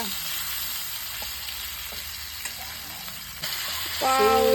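A small fish fries in oil on a tawa over low heat, giving a constant close sizzle with faint crackles. A brief voice enters at the very end.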